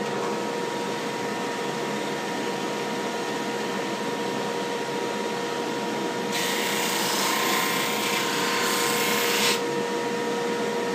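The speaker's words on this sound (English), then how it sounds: "So I'll go ahead and hook this dust collector back up." A dust collector in a woodworking shop runs steadily as a loud, constant motor whine and airy roar, joined partway through by a brighter hissing rush of air that lasts a few seconds before dropping back.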